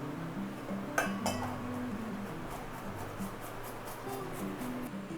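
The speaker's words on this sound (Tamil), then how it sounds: "நல்லா வேக வச்ச உருளைக்கிழங்கை கிரேட் பண்ணிடுவோம்" Boiled potatoes grated against a metal grater in a kitchen, a steady scraping rasp with a few sharp metallic clinks near the start, close and alone without talk.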